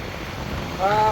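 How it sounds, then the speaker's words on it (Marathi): Wind rushes steadily past the microphone while riding in the open on a cold day, a constant close buffeting roar that swells toward the end with a faint tonal hum. "आता एकदम थंडी गारगार वारा आहे"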